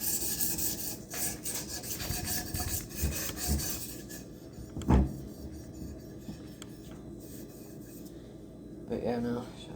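A custom wooden axe handle is sanded by hand with sandpaper, giving quiet raspy rubbing strokes in irregular bursts, close and soft, with a brief knock and a faint voice near the end.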